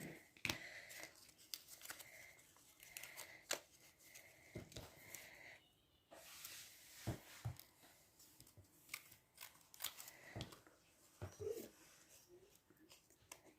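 Scissors snip paper for origami in a few sharp, close cuts spread irregularly through a quiet room, with faint rustling of paper and soft speech between the snips.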